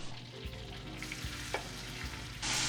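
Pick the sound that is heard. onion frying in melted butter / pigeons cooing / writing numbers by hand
onion frying in melted butter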